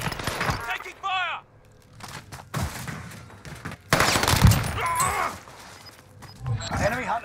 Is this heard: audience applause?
no